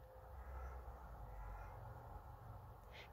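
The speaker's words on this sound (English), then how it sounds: "I can hear that crow again." A single crow caws, one short, distant-sounding call near the end over a steady low background rumble.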